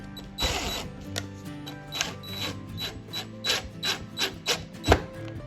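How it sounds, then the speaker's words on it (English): Screws being retightened on a small bracket for add-on window blinds: a series of short ratcheting clicks and turning rubs, close and fairly quiet, with no talking. "so let's retighten those screws"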